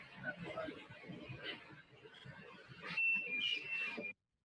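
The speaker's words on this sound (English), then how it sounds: "And then you hear the alarm go off" A high electronic alarm beeps briefly aboard a sailboat on autopilot, over overlapping chatter and crowd noise, rising near the end before cutting off.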